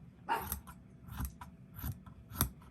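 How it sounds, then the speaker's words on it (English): Scissors cutting across the heel of a sock in a handful of close, crisp snips spaced through a quiet background. "take one of your socks and cut it across the heel"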